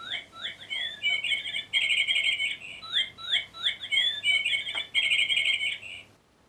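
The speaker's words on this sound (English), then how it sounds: "Whenever someone passed by the bird, he started to chirp." A pet bird chirps and trills loudly and close by, repeating quick bursts of high, rapid notes in a steady pattern for several seconds before stopping.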